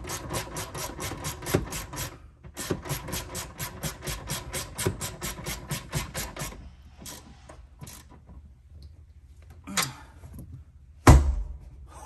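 A ratchet wrench clicks rapidly while tightening down the rear seat of a Shelby GT350R. Fast, even ratcheting bursts come up close, pause briefly, resume, then fade into a few scattered clicks and a sharp knock.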